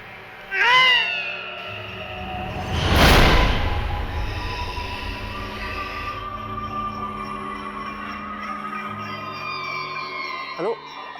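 A cat meows several times in a bedroom, a clear wavering cry near the start, then another cry that trails off, with a loud rush of noise in the middle and a short sound near the end.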